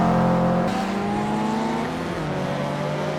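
Race cars, including a Subaru 22B and a Toyota Supra, lap the Tsukuba circuit, where loud engines drone and shift pitch close by as they sweep past. Another engine note overlaps partway through.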